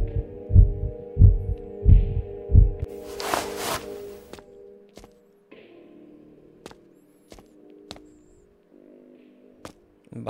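Deep heartbeat thumps from the horror video game The Kidnap, four strong beats over a low drone, then a whoosh and quieter ambience with scattered sharp clicks, no voices.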